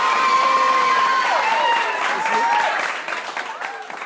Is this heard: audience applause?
yes